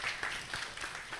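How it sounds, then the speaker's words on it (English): A short burst of clapping from a student summit audience in a hall, quick and even, fading slightly over about a second. "Clap for her."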